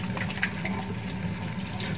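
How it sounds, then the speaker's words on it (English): Running water from a tap rinses soap lather off hands at a sink, a steady close splashing wash that holds level for the full two seconds with no talk. "Rinsing the soap removes the lather, which may contain microorganisms"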